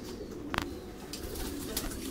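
Pigeons in a rooftop loft coo in low, throaty rolling phrases, close and steady, with other birds murmuring in the background and no talk.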